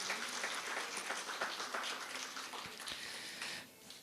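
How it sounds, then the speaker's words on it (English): Wedding reception guests applaud the couple Kenneth and Aradhana in Mangalore, a dense, steady crowd clapping at moderate distance that fades slightly near the end. "please give them a round of applause."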